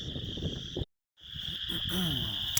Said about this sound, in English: I'm still not sure if they're wood frogs or toads.